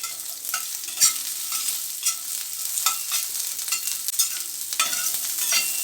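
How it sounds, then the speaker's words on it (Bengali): Sliced onions fry in ghee with whole spices for a Bengali mixed vegetable rice, producing close, busy sizzling with frequent sharp crackles and spatula scrapes against the pan, and no voices. "এখন পেঁয়াজগুলো একটু হালকাভাবে ফ্রাই করে নিতে হবে।"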